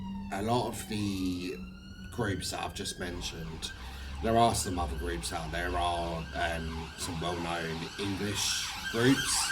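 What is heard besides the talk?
emergency vehicle sirens passing outside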